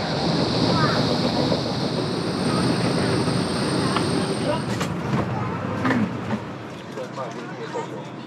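A steady, loud rumbling roar of a high-speed train travelling at over 300 kilometres per hour in China, heard from inside with constant rushing noise and occasional rattles.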